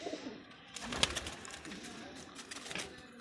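Pigeons kept in breeding pairs for sale, soft close cooing and shuffling with a brief flutter in the middle, faint against a quiet room.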